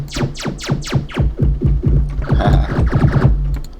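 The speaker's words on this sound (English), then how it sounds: "You can make a cool laser sound with it." Synthesized laser zaps from a drum synth generator plugin come in a quick rhythmic series of falling pitch sweeps, a dozen or more sharp pew bursts over a low throbbing tone, with the later ones overlapping.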